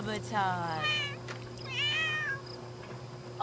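A cat meows in The Sims 3 after vomiting in a bathroom: two drawn-out, rising game meows over a steady electronic hum, fairly close and clear.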